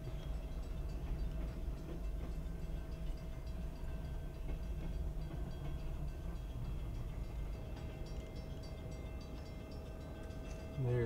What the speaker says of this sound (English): This time it's a northbound freighter.